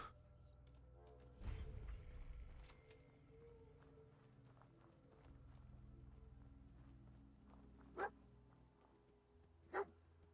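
A dog companion in the video game Fallout 4 gives two short, sharp barks a couple of seconds apart over a quiet, low ambient hum, with faint shuffling and movement sounds earlier.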